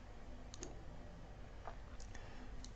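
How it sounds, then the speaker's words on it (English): Faint, crisp computer mouse clicks, a handful of quick single taps spaced apart over a quiet background hum. "click on apply"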